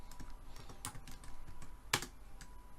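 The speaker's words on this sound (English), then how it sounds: "let me type everything first" Typing code on a computer keyboard: rapid, close clicking keystrokes in an uneven rhythm, with a couple of sharper, louder key hits.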